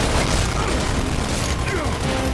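Dense Gears of War 2 combat: heavy gunfire rattles continuously with deep booms, filling the whole stretch, while a voice cuts in briefly near the end.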